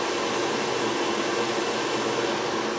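A stand mixer whips egg whites for Italian meringue, giving off a steady, even whirring hiss close by that holds at one level with no pauses and no talking.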